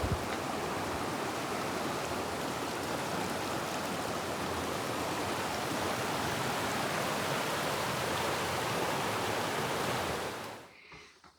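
Abundant water rushes along beside a 4x4 trail, a dense, steady roar of flowing stream that fills the scene and cuts off sharply near the end.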